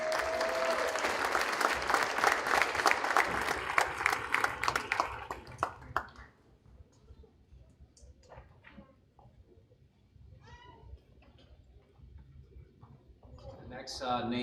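Audience at an elementary school fifth grade awards ceremony applauds loudly for several seconds, the clapping then fading into scattered claps and quiet room noise before a brief renewed burst at the end.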